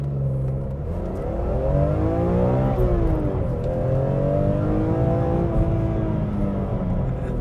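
BMW E46 M3 with its naturally aspirated engine accelerating hard to 60, revving high with rising pitch that dips at a gear change and climbs again, loud and close throughout with no talk.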